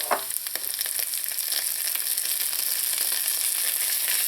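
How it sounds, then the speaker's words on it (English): Garlic and ginger sizzle as they are added to soft, browning onions in a pan for vegetarian biryani. The frying hiss is steady and close, with no one talking. "add in the garlic and the ginger"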